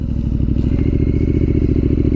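A Triumph Street Scrambler motorcycle engine heard while riding, a loud, close, steady throbbing rumble with fast rhythmic pulsing and some rattle, continuous throughout with no talk.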